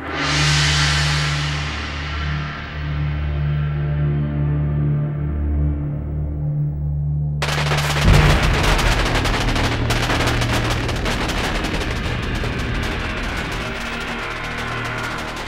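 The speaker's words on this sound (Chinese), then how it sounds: "这是在放庆贺烟花呢" Celebratory fireworks go off during a historical war drama scene. A low steady hum and fading whoosh give way to dense, rapid crackling bursts that keep popping loudly to the end.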